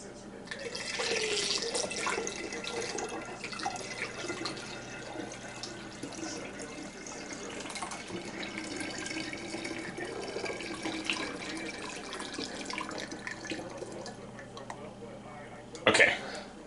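Apple juice poured from a half-gallon container into a jug for cyser mead makes a steady, continuous liquid splash and gurgle close by, with a brief clunk near the end.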